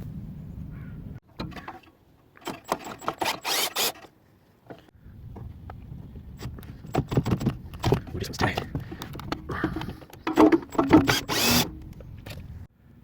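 T30 bolts being removed from the electronic parking brake of a 2012 Volkswagen Tiguan, with bursts of ratcheting and tool clicks between pauses, close up, and a person speaking at times.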